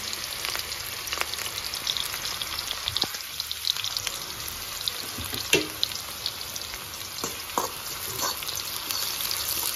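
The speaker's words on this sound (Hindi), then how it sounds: "तो अब इसमें मैंने ये प्याज काटी है बारीक, ये सारी प्याज का मैं इसमें बघार लगाऊंगी।" Finely chopped onions fry in hot oil in a karahi, giving a continuous bright sizzle with occasional stirring knocks and scrapes, close and without talk.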